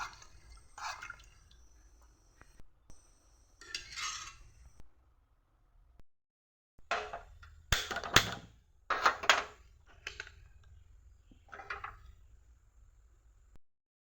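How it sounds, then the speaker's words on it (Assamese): A spoon works through rice khichdi in a pot, giving scattered wet clinks and scrapes in short bursts separated by quiet gaps, close and fairly soft. "এতিয়া ভালকৈ লৰাই দিছোঁ, লৰাই পেলাই নিমখ অকণমান দি দিছোঁ"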